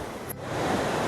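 Bhagirathi river rushing at the Devprayag confluence, where the Shanta stream joins it, gives a steady, broad roar of fast water that swells slightly louder partway through, with no voices.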